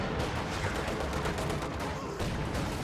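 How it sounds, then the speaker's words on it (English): Dense video game battle noise as G43 fusiliers come under heavy gunfire and mortar bombardment, a continuous, loud barrage of overlapping shots and blasts with no pause. "Getting gunned down pretty hard."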